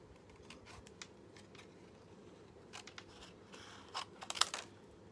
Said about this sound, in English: get my trusty scissors and see what we can do here.